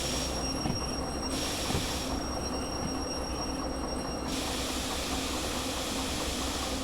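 Train rolling along in the Derail Valley video game, a steady loud rumble of wheels and carriage noise with a high metallic squeal that comes and goes, no voices.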